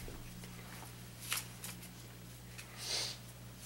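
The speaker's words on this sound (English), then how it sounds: "Be careful how you're shuffling." Magic: The Gathering cards from a Dragons of Tarkir pack being shuffled by hand at a table, a few soft riffling bursts over a steady low electrical hum, fairly quiet and close.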